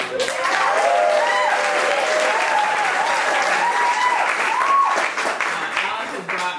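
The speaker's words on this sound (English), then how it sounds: "and let's clap for Alice." Audience applause for Alice at an outdoor fundraiser: steady, dense clapping from a crowd that stays loud throughout, with voices calling and chattering over it.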